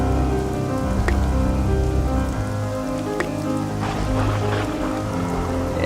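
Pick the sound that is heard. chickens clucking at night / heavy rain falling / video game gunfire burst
heavy rain falling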